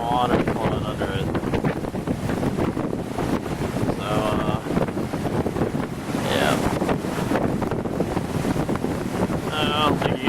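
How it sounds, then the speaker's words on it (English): Hurricane Sandy wind buffets the microphone on the North Carolina Outer Banks while storm waves wash in and flood the coast, a constant rushing roar with brief bursts of speech over it. "Waves are coming in. They just come through here, flow in."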